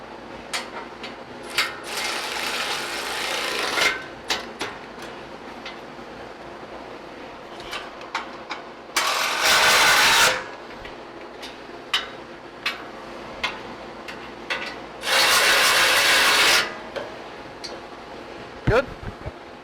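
A power impact tool tightens bumper bolts on a Ford F-250/F-350 Super Duty, with two loud sustained buzzing bursts of about one and a half seconds each amid clanks, tool clicks and scattered taps, nearby.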